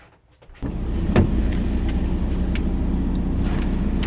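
A car starts off and drives, heard from inside the cabin: after a quiet moment a steady engine and road rumble sets in and holds, with faint clicks and taps over it.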